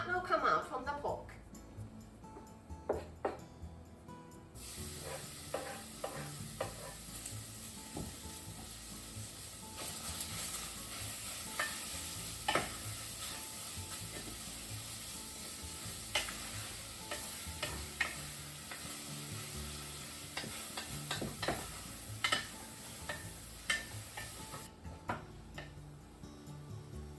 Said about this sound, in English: I'm cooking the pork first, so heat up the pot